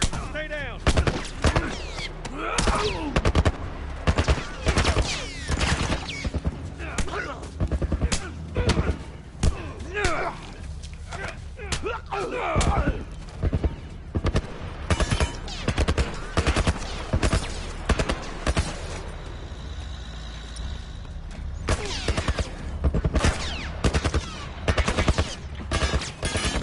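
Enemies fire guns in The Last of Us Part 1, sending bursts of sharp gunshots and thuds in uneven volleys through most of the stretch, mixed with in-game voices and talk.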